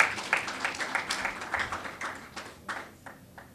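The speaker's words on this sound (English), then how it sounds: "Give Miss Smith a big round of applause." Crowd clapping at a school awards ceremony for GSAT students in St Elizabeth, Jamaica, lively applause with distinct individual claps that thins out toward the end.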